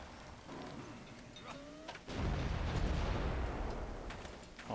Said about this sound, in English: Oh, rocket artillery